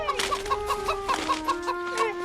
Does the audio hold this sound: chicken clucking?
yes